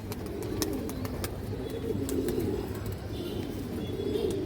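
Old-line pigeons coo in a low, steady murmur, several birds overlapping continuously with faint chirps and light rustling above.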